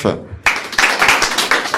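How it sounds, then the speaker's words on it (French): A small group claps for a guest on a school web radio show, a few distinct sharp claps after a brief voice, close and uneven in rhythm. "on peut l'applaudir bien fort"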